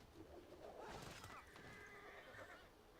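A horse whinnies in the video game Civilization VI, the neigh rising over a steady background of ambient noise, with faint hoof and bird sounds.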